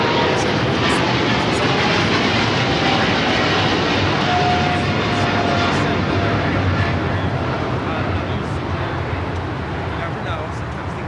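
A China Cargo Airlines jet passes at LAX with a loud, steady roar of engines that fills the whole stretch and fades only slightly toward the end.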